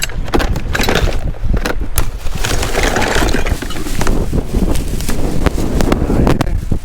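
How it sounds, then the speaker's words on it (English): Gusty wind buffets the microphone outdoors on a street in the early morning rain with a loud, rumbling roar, mixed with scattered rustling and clattering noises throughout. "Oh, it's windy."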